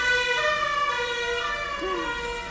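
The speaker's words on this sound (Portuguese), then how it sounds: "Passa a ambulância." An ambulance siren passes by with a loud, steady wailing tone whose pitch shifts slightly as it goes, fading a little toward the end.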